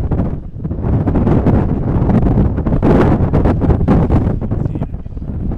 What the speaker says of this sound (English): The gust of wind picking up.